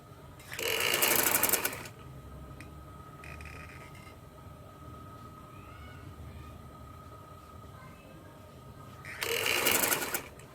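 A sewing machine stitching a dhoti shalwar runs in two loud, close bursts, one near the start and one near the end, with a quieter stretch between them.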